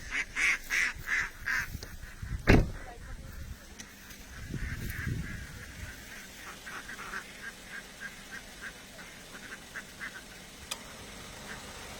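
Farm ducks quack and honk in a series of repeated calls, close and fairly loud at first, then a noisy knock and softer intermittent quacking with background rustle.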